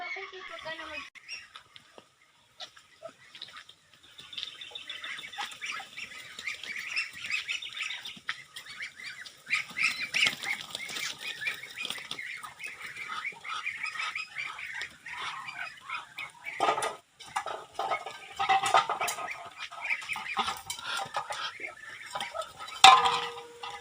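Muscovy ducks being shifted into a bigger cage, with soft quacks and hisses, wing flaps and clattering cage sounds spread through the clip, plus occasional voices nearby.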